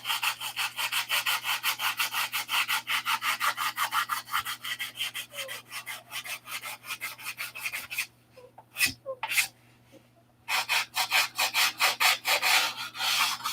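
Rhythmic back-and-forth sanding of wood by hand, fast steady strokes close by, pausing briefly with a sniff before resuming.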